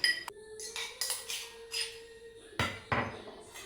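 Onion, chili and salt pounded in a kitchen, giving a run of sharp knocks and clinks at an uneven pace, about six or seven distinct hits, close and moderately loud with no talk.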